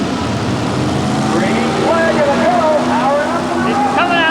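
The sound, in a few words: 4WD pulling truck engine revving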